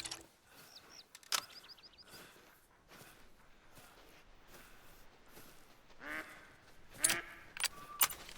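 In the hunting game TheHunter: Call of the Wild, scattered duck quacks and wing-like flutters sound among footsteps and rustling, fairly quiet with a louder burst of calls near the end.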